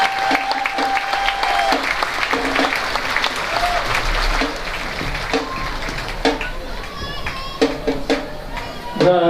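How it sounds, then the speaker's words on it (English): Applause and cheering at an outdoor marching band festival for the Mohawk Warrior Marching Band, with scattered claps, children's voices and crowd chatter over a busy stadium background that stays fairly loud throughout. "How about another round of applause for the Mohawk Warrior Marching Band?"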